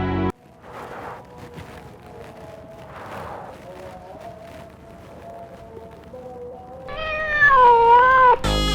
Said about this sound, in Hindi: काली बिल्ली रास्ता कट गई